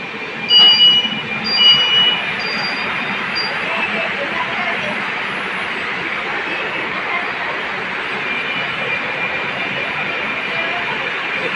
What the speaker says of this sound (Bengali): দেখতে পাচ্ছ আরেকটা গাড়ি ওখানে মেট্রো রেল চলে গেল।